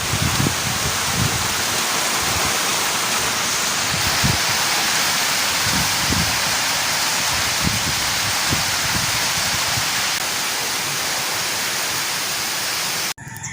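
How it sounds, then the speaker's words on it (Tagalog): Heavy rain pours steadily and loudly, a dense unbroken hiss with occasional low rumbles underneath, cutting off abruptly at the end. "Pumapatak na yung ulan."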